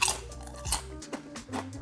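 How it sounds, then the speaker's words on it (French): Kettle-cooked potato chips are crunched and chewed close up: loud, brittle crackles with a sharp bite near the start and again partway through, then wetter chewing crunches, with no speech. "Elles sont très croustillantes. Ok, cuites au chaudron, j'avais pas vu."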